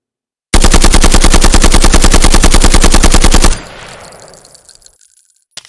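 A gun in the shooter game Contractors fires a long, loud, evenly spaced automatic burst for about three seconds, followed by a fading echo and mechanical tail; no one speaks.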